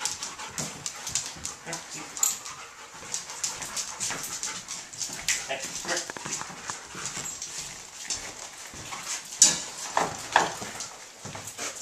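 Police dog searching a room for drugs, with close sniffing, panting and rapid scratching and pawing in irregular bursts, plus occasional sharp knocks.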